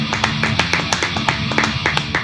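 Studio applause welcoming a guest on a Spanish-language podcast: a small group clapping steadily with sharp, evenly spaced hand claps, close and moderately loud, with no talk over it.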